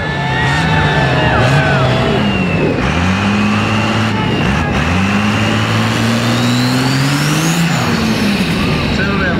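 A red Mustang powered by a Cummins diesel engine revving hard and loud at close range, its pitch climbing and falling in repeated throttle blips and long pulls, with voices faintly underneath.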